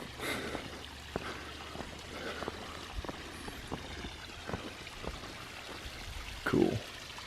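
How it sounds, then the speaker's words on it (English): A small waterfall on a creek in Shawnee National Forest pours and splashes steadily at low volume, with faint scattered ticks and a brief breathy sound near the end. "It's even a little waterfall."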